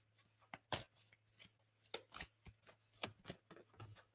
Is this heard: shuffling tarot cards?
yes